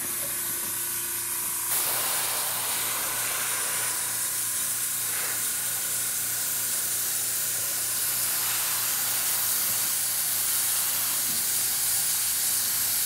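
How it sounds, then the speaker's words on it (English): Airbrush spraying a 50-50 paint mix at about 20 PSI onto plaster groundwork, a steady broadband hiss running continuously after a short quieter start, close and fairly loud with no talk. "It was spraying with a PSI of around 20."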